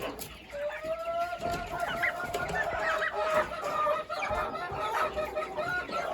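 Broiler chickens clucking continuously at close range, overlapping calls with a steady busy flock murmur.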